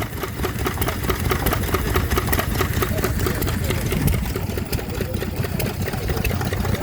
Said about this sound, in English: Got a Lister Junior at the end of the day. That's driving a water pump.